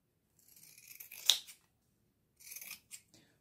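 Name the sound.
scissors trimming fabric corners while sewing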